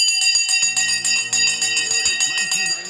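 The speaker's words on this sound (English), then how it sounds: "The bell has now gone." A stock market opening bell rings out in rapid, bright repeated strikes that carry on continuously for several seconds, loud and close, with a faint voice murmuring underneath.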